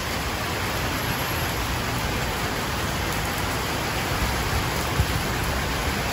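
Steady, dense hiss of rain, constant and fairly loud throughout with no voices.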